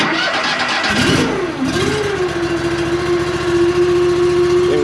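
Gas snow thrower engine on an 18-24 HD machine started with the electric start button: a brief cranking whir catches and settles into a steady, loud, close running drone with no talking.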